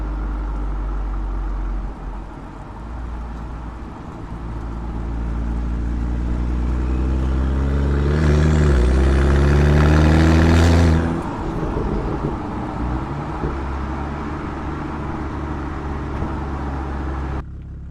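A BMW F10 535i with a catless downpipe runs with its Valvetronic exhaust valves open: a deep idle rumble climbs into one long rev, peaks, then drops back to idle, close and loud with no talking.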